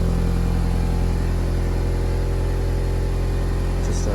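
A 1998 Talon car engine idling steadily with a rough idle problem, a close, continuous low rumble with a regular pulsing beat that stays constant throughout.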